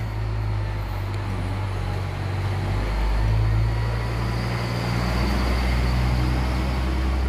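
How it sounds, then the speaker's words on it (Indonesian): A car passes by outdoors as a steady low roar of road and engine noise swelling slightly and fading, with no talk over it. "Ada suara mobil."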